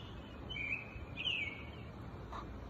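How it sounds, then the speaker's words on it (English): Birdsong at dawn in the early-morning open air, a few faint chirps and short whistled calls over a low hum of distant background noise. "That's birdsong."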